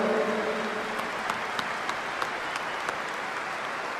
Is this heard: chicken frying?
no